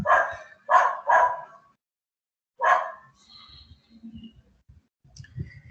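Dog barking nearby, four loud sharp barks in two quick bursts, followed by faint clicks and low rumbling sounds.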